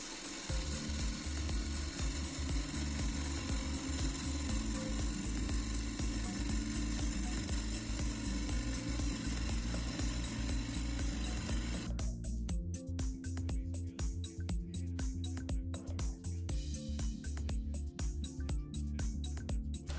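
A bowl gouge cuts a wooden bowl spinning on a lathe, mounted without a chuck, making a continuous loud rasping whir that shifts to a choppier, intermittent cut partway through.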